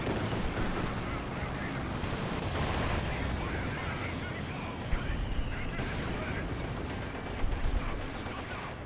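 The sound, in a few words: machine gun fire in Company of Heroes 2 video game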